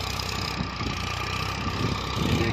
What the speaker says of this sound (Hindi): ट्रैक्टर अब तक मैं लो टॉप में चला रहा था, ड्राइवर साहब पहले में लेके चल रहे हैं।